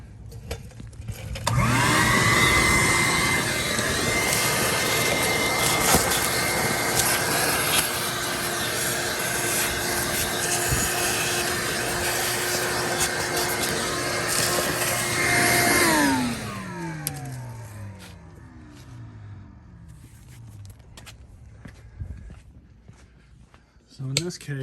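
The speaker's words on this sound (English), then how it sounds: "I need to get the vacuum out" A vacuum cleaner runs loud and steady in a workshop for about fifteen seconds, then winds down with a falling whine before near silence.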